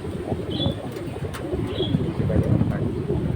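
Male pigeon cooing at close range, several short soft coos repeated through the moment, with a voice talking over them and faint chirps around.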